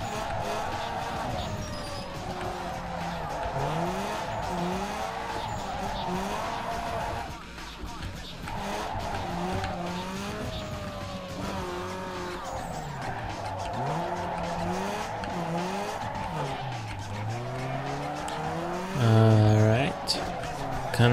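Burnout in Need for Speed Underground 2: car tires squeal and skid in long wavering whines over a droning engine, with repeated rising and falling pitch sweeps, a loud burst near the end, and a voice talking at times underneath.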